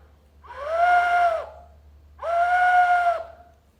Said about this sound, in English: it's a little whistle, and it sounds like an owl